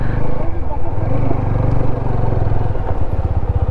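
A motorcycle on a mountain bike trip in Arunachal Pradesh is parked near Madhuri Lake, its engine chugging loud and close in a steady, rapid idle throughout.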